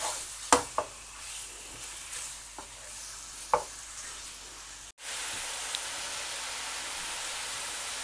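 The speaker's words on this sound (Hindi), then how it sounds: "और इसको 2-3 मिनट तक भूनेंगे।" Chicken and vegetables with salt, black pepper and chili flakes stir-frying in a pan, a soft steady sizzle broken by a few sharp spatula scrapes, then a louder even hiss toward the end.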